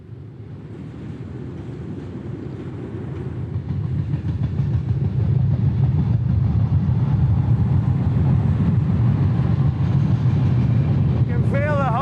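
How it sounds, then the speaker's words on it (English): Heavy low rumble of a train crossing a bridge, building steadily louder over the first few seconds and then holding a dense, rattling roar, heard from on or under the vibrating structure. "You can feel the whole bridge vibrating under the weight of the train."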